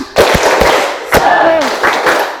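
Students in a classroom at SMA N 8 Lubuklinggau clap out a spirit chant in sharp group bursts, with loud claps at intervals and a lively crowd of young voices between them.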